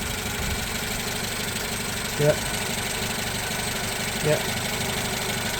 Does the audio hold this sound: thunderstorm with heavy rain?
no